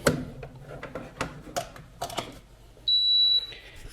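Kitchen air fryer giving a single steady electronic beep as it is switched on, following a few faint clicks and handling taps, quiet and close with no talk.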